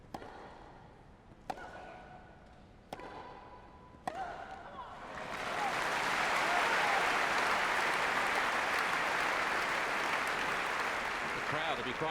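Wimbledon tennis crowd breaking into loud sustained applause after a few sharp ball hits, the clapping swelling and holding steady to the end.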